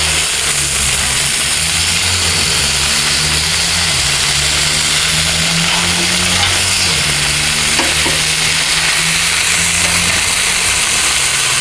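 Bacon burger dogs fry on a Blackstone griddle with a steady broadband sizzle, alongside a low engine-like hum that runs the whole time and stays loud and even throughout.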